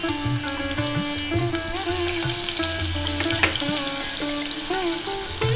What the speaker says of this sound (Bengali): তেলটা গরম হতে শুরু করে দিয়েছে, এর মধ্যে নিয়ে নিচ্ছি একটু রসুন কুচি, তারপরে দিয়ে দিচ্ছি গাজরের টুকরোগুলো।